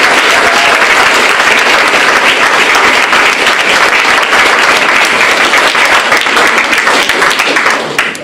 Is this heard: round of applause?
yes